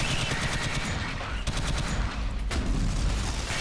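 Rapid bursts of automatic gunfire from the top-down alien shooter game Alien Swarm, a dense continuous rattle of shots that stays loud across the whole stretch with brief dips in intensity.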